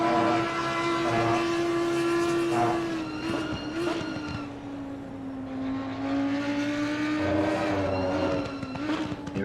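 GT3 race car engines in a racing video game at Misano, a loud sustained whine with pitch rising and falling through shifts and passes, plus overlapping cars, lasting the full nine seconds without speech.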